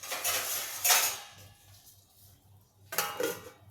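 Metal lid set onto a pan on a home kitchen stove during flatbread cooking, giving a couple of close clattering clinks separated by a quiet pause, with no talk.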